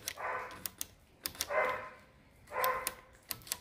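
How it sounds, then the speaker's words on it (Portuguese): A dog barks in three short, muffled bursts spaced about a second apart, fairly distant and moderately faint, with sharp clicks scattered between them and no speech. "um cachorro latindo"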